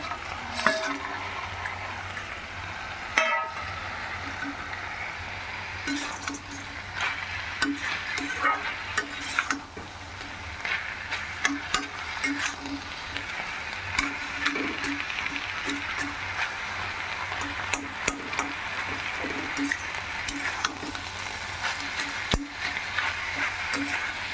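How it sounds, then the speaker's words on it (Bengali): Vegetables frying in a pan in a home kitchen, a continuous moderate sizzle with frequent light clicks and scrapes of stirring, steady for the whole stretch. "এটা ভাজা ভাজা মতন হয়ে এসছে এই যে খুব ভাজা ভাজা মতন হয়ে এসছে"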